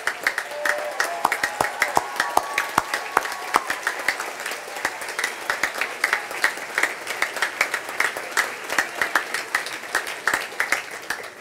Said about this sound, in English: Graduates, please stand and give your folks a round of applause